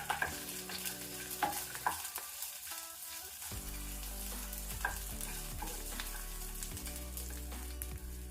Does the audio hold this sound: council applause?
no